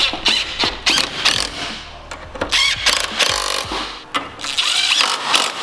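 A power tool zips on a BMW E92 M3 during a coilover install, shooting the bolts on in short bursts and whirs, loud and close, with clanks between runs.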